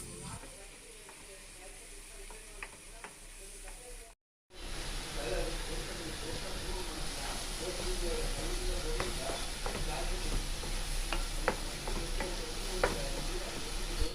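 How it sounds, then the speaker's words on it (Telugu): Onion with cumin seeds frying in a hot pan for an egg junnu curry, giving a steady, close sizzle with light scraping as it is stirred, after a brief cut to silence partway through. "కొంచెం యాగనిద్దామండి ఉల్లిపాయ."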